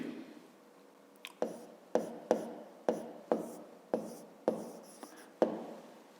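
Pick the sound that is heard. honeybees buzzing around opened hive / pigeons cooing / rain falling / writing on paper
writing on paper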